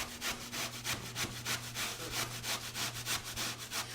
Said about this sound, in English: So I'm going to keep grating these.